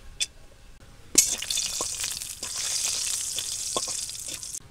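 Cinnamon and cardamom sizzle in hot oil in a wok, a steady bright frying hiss that jumps up sharply after a faint start, with small clicks and stirring knocks scattered through it.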